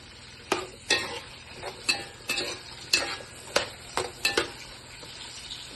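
A spoon stirs bottle gourd pieces into a sizzling dal curry in a pan, scraping and knocking in about a dozen close, irregular strokes over a soft frying hiss.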